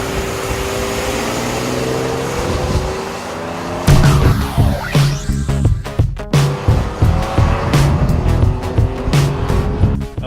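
A Ford F-150 pickup truck engine running on CNG idles while towing, then roars up hard with a rhythmic pulsing as it accelerates, loud and close, continuing to surge for several seconds.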